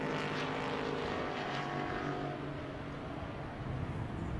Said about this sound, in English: That's a Group 12 car trying to catch the Group 6 car of Mooney.